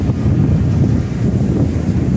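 Strong wind buffets the microphone outdoors on a coastal road trip through Ilocos, a constant low roar with no break.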